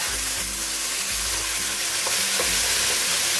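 Beef sizzles as it fries in oil in a hot pan for Hong Kong style beef and lettuce fried rice. The steady, close frying hiss runs throughout, with low clattery stirring noises underneath and no talking.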